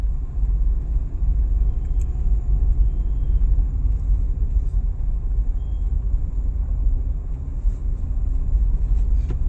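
A car climbs a winding mountain ghat road, with a loud, continuous low engine and road rumble heard from inside the cabin and no talk.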